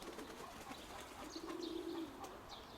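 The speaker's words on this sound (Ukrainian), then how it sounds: "Я вже почав відкривати отих голубів, що в мене на на хаті." Faint, soft cooing of pigeons kept on a house roof, against a quiet outdoor background, with a few light chirps and rustles.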